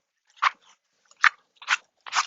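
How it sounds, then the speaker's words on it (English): A dog playing and biting near a yoga session, giving four short separate bursts of snapping, crunchy chewing and mouthing noises, fairly close and without any talk over them. "Dog wants to play, but not right now."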